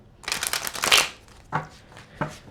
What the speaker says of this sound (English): That's when you shuffle like a deck of playing cards like so.